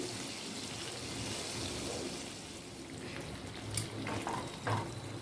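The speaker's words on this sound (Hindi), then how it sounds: "इस तरह से मैं इसे 3 मिनट तक फ्राई करूंगी।" Chicken pieces frying in a pan over slow to medium flame, a soft, steady low sizzle with faint bubbling, plus a couple of brief clinks near the end, quiet and close.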